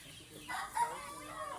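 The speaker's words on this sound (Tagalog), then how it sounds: "ito guys yung free range chicken" Free range chickens on a farm, with a short burst of clucking and a brief crow-like call rising over steady background farm noise, fairly close by.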